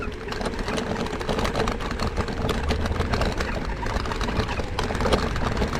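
A scooter ridden at full throttle, its motor giving a steady, continuous whine with road rumble underneath, close and constant throughout with no talking.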